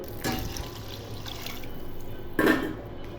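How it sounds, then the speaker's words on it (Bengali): Water is poured into a masoor dal mixture in a pot, making two short splashing gushes at the start and near the end over a quiet kitchen background. "এখন পানি দিয়ে দিব"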